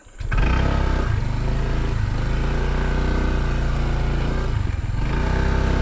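A motorcycle engine revs hard and steady on a slippery, muddy road, the loud droning note rising and falling in two surges across several seconds without any talking.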